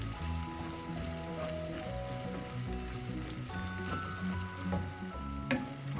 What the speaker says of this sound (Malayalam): 1 ടീസ്പൂൺ എരിവുള്ള മുളക് പൊടി, 1/2 ടീസ്പൂൺ മഞ്ഞൾപ്പൊടി, എല്ലാം കൂടെ ഈ ഓയിലൊന്ന് മൂപ്പിച്ചെടുക്കാം